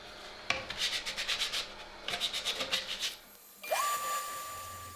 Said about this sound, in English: So I tried hand sanding.